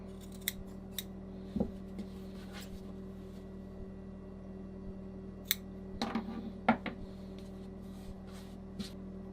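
Scissors trimming fabric seam allowance on a trouser pocket, heard as a few quiet, isolated snips over a steady low hum.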